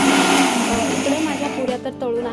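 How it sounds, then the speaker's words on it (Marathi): A kitchen mixer grinder whirs steadily, grinding fried puris into coarse crumbs for traditional Marathi ladoos; the motor's loud, continuous drone fills the short stretch and shifts in pitch near the end. "तर आता मी त्या मिक्सरला फिरवून घेणार आहे"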